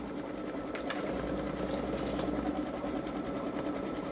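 Baby Lock Solaris Vision embroidery machine stitching an edge-to-edge quilting design, a steady rapid mechanical chatter with a fast even needle rhythm, close and continuous, with no voices.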